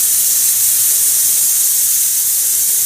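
Spray gun laying a light coat of paint onto a car bonnet, a steady close hiss of atomized spray running unbroken and loud throughout with no talk.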